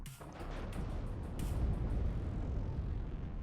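Heavy 450 kg high-explosive bombs dropped by a Tornado jet burst in the WARNO war game, a dense rolling low rumble of blasts with sharp cracks early on, sustained loud throughout with no talk.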